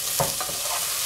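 Potatoes and tomatoes being stirred in a frying pan, a spoon scraping through them in a couple of soft strokes over a steady close sizzle.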